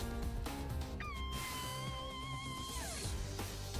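A cat meows in the video game Digimon Story Cyber Sleuth, a single drawn-out, wavering call heard clearly over a low game background.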